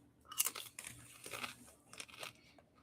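Crisp crunching from thin potato chips being bitten and chewed up close, several irregular crackly bursts over a few seconds with no talking.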